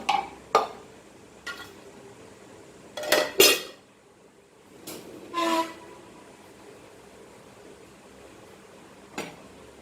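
A small cooking pan being handled while oil is added, heard as a few close metallic clanks and scrapes, with quiet gaps between them.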